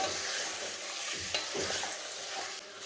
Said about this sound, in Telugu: ఉప్పు పసుపు ముక్కకు బాగా పట్టేటట్టు కలుపుకోవాలి